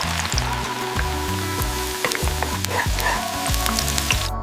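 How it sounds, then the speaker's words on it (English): Bite-sized tofu cubes frying in oil give a steady, fairly loud sizzle with scattered pops and crackles throughout, no voices over it. "cut the tofu into bite-sized cubes and lightly fry them in oil"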